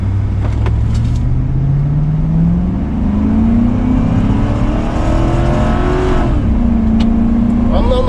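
A car pulls away from a complete stop under throttle, its engine note climbing steadily, briefly dipping at a shift, then rising again. It is loud and close, with a voice heard faintly at moments.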